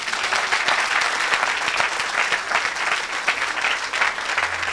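A church congregation at a Sunday worship service claps loudly and steadily, a dense, continuous wash of applause throughout with no voices standing out.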